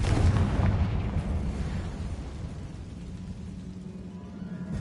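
In the video game Hogwarts Legacy, a Confringo spell sets off a deep booming explosion inside a tomb, loud at the start and then rolling off into a long low rumble that fades over several seconds.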